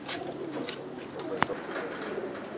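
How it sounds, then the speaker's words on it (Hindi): Sialkoti pigeons coo softly at a rooftop loft, a low murmur of calls with faint bird chatter, under steady ambient noise. "ये जनाब सियालकोटी कबूतर हैं, शकील भाई के बहुत नायाब"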